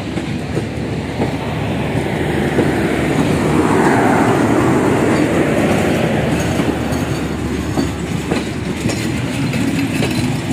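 A train rumbles past close by, steady and loud, with rhythmic clickety-clack of wheels on the rails throughout.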